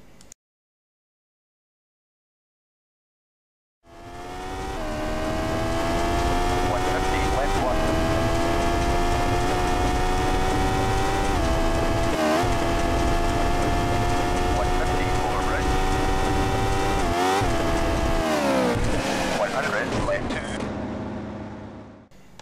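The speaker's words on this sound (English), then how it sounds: "So I've come off a jump a bit badly, hit a bridge, been amazed that my engine isn't actually completely destroyed" A rally car engine in the game Rally Championship 2000 comes in after a few seconds of silence and holds a loud, steady drone, with revving and dips as the car jumps and crashes into a bridge.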